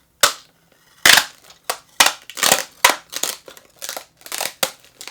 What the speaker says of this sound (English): I'm basically just taping up this box.